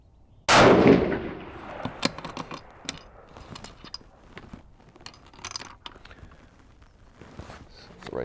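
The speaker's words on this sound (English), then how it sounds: "So I'm gonna shoot bottom center on my targets." A single loud rifle shot fired at a bottom-center target on an outdoor shooting range, with a chronograph set up, followed by quieter handling clicks and scattered small knocks.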